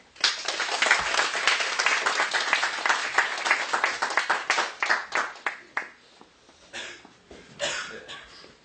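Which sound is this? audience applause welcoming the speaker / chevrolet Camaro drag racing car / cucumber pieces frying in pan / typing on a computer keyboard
audience applause welcoming the speaker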